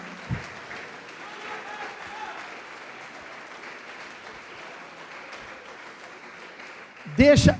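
A church congregation claps during a sermon, a soft, diffuse patter of applause under the preacher's ongoing voice, ending in a louder burst of sound.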